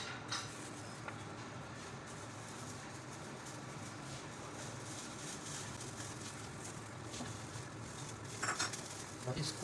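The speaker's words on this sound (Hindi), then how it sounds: "इसको हम अच्छी तरह मिक्स कर लेंगे, एक बैटर बना लेंगे" Spoon stirring a vinegar marinade batter in a bowl for tikka-style chicken leg pieces, with steady clinking and scraping against the bowl throughout and a few sharper knocks near the end.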